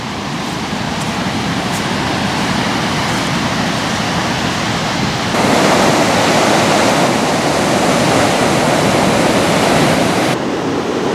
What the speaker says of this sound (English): Waves are pretty good, light winds.